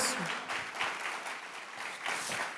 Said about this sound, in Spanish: le puedes dar un fuerte aplauso a nuestro Dios